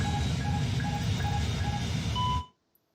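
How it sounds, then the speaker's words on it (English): An aircraft cockpit alarm in Microsoft Flight Simulator 2020 beeps in a steady, evenly spaced series over a constant engine drone, then everything cuts off abruptly into silence. "the alarm's still super loud, even with the master turned almost all the way down"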